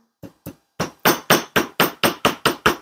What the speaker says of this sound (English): you're just twisting the wire as you're hammering it flat